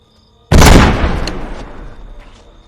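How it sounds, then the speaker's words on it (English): A single loud gunshot blast in a film scene at a house, sharp onset after a moment of near silence, followed by a long decaying echo. "Lou cautiously approaches the house and hears gunshots."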